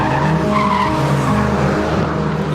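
A Mercedes-AMG GT R skids with a steady, loud tire squeal and engine roar, sustained without a break and heard up close.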